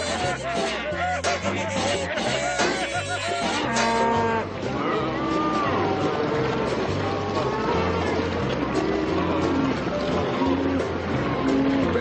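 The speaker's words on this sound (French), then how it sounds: "on effrayait les vaches pour qu'elles sèment le chaos." Stampeding cows in a cartoon moo repeatedly and loudly over a dense rumble of hooves, several overlapping calls throughout, with voices talking over them.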